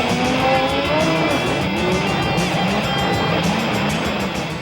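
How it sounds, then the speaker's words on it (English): Specially built pickup trucks race around a short, bumpy stadium dirt track with jumps, their engines roaring and revving in a loud, continuous blur of motor noise throughout, with no voices. "It's stadium racing. It's like motocross with pickup trucks."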